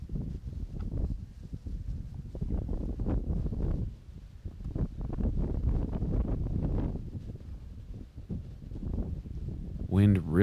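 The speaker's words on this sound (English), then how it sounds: "Wind really starting to blow now." Strong wind gusting across a disc golf course during a world championship final round, a steady roar and buffeting rumble into the microphone for the whole stretch, with a commentator talking over it.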